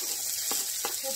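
Mustard seeds and onions fry in hot oil for poha, giving a steady, close sizzling hiss with a couple of soft pops over about a second.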